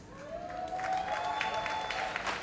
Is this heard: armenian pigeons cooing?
no